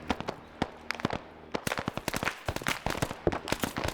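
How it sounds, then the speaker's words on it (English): Rapid rifle shots from SVD gunners in a nighttime Vietnam-themed video game, sharp cracks firing in quick irregular bursts, some close and loud, others fainter, with no talking. "So that's one of the SVD gunners engaging him"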